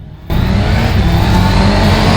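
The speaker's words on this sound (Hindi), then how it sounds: "कहीं पीछे से ना एक मोटरसाइकिल आ रही है इनकी ओर" Motorcycle coming up from behind on an empty mountain road in Uttarakhand: after a brief quiet moment, a loud, sustained engine roar bursts in abruptly and stays close and strong.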